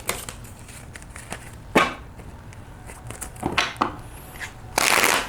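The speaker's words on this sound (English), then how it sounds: "Shuffle, fan the cards," A deck of tarot cards is shuffled in close, sharp riffling bursts, several short ones and a longer final one, with no talking.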